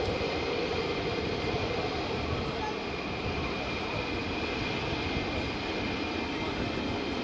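F-35 fighter jet flying at RAF Lakenheath, a loud, steady, broadband roar filling the whole stretch without pause, with voices faintly under the noise.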